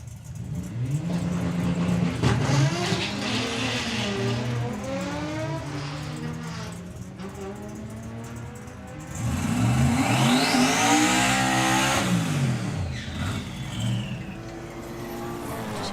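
Volkswagen Passat and Golf cars drag racing at a drag strip event: engines rev and accelerate with rising, sweeping tones, one run then a second louder pass, fairly close and loud.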